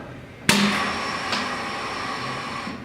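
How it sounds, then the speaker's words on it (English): A Venturi vacuum pump on a vacuum gripper for large transformer panels switches on abruptly with a sharp onset, then hisses steadily and loudly for a couple of seconds before tailing off. "you heard the Venturi vacuum run for about 1 or 2 seconds and then shut off"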